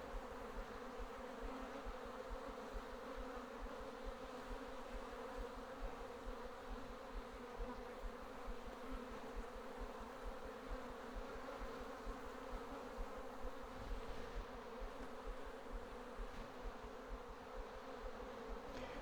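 Honeybees hum and buzz in a steady, dense drone inside an open homestead hive, a continuous close swarm sound with small rises in intensity and no speech.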